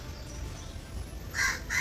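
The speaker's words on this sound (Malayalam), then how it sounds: "ഈ കാക്ക" A crow gives two short, harsh caws close by near the end, after a stretch of quiet low hum.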